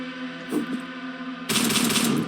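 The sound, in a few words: gunfire in the video game Hellslinger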